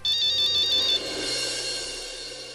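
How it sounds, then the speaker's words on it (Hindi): A phone rings with an incoming call late at night, a bright electronic ringtone chiming loudly for about a second before it cuts to a quieter fading tone. "सॉरी शेखर, तुम्हें इतनी रात को मैंने फोन किया।"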